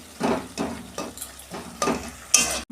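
Fish curry ingredients with stalks, potato and eggplant being stirred and fried in a pan, giving repeated scraping strokes with light sizzling and a brief clink near the end.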